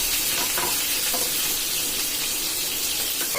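Pieces of stingray fish fry in a pan for a biryani. A steady, dense sizzle holds at an even level throughout, with no talking over it.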